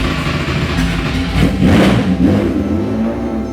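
A restored car engine roars close and loud, running steadily and swelling as it revs, with no pauses.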